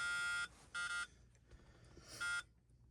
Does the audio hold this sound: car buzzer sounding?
yes